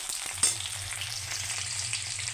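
Onions frying in a pan for an Assamese-style broiler chicken dish with sesame, giving a steady close sizzle with a low hum underneath and one brief clink near the start.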